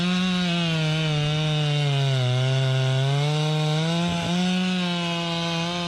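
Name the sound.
Stihl chainsaw cutting a large tree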